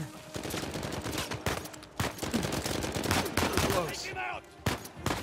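Rapid gunfire in the Uncharted 4 video game, dense bursts of shots stacked in quick succession with short gaps, loud and continuous alongside other game sounds.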